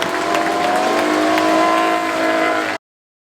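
Old two-stroke racing motorcycles on the Goodwood Festival of Speed hillclimb, a loud, continuous, raspy high-revving engine roar that holds steady for nearly three seconds and then cuts off abruptly.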